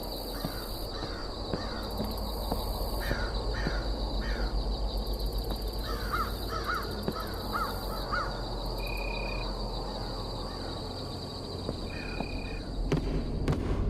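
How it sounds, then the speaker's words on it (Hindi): Crows cawing in the horror video game Bhangarh, repeated harsh caws at mid distance over a steady hiss of insect and wind ambience, with faint electronic tones and no talk. "ओके ओके, कौवे तो हैं,"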